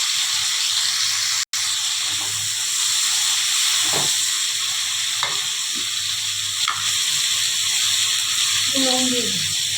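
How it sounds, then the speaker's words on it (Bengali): Capsicum pieces frying in hot oil, a loud, steady close sizzle with spatula stirring and occasional scrapes running throughout. "এরপরে ক্যাপসিকামগুলো ভেজে নেব।"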